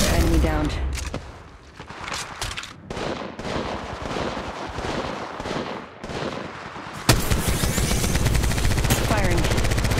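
Rapid automatic gunfire in the mobile battle royale Apex Legends Mobile, loud close bursts of shots with brief pauses, then a sharp renewed volley, mixed with in-game voice callouts.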